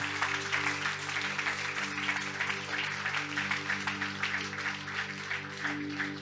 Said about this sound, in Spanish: Bríndeles un aplauso de bendición.